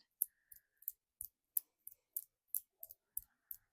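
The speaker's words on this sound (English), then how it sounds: "So we're just going to flick our fingers, make this audible, so you should hear the sound." Fingers flicking during a hand-stretch routine produce about a dozen sharp, quiet clicks in quick, slightly irregular succession, close by with no talking.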